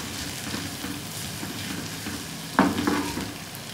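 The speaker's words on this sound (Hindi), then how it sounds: "प्याज को नरम करेंगे और इसका कच्चापन ख़त्म करेंगे" Onions frying in a few spoonfuls of cooking oil for egg bhurji, a steady close sizzle, then a sudden louder scrape and clatter of stirring near the end, with no talking.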